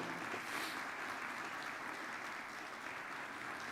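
Applause for Jesus during a family church service, a faint, distant-sounding wash of clapping from the congregation that holds steady for a few seconds.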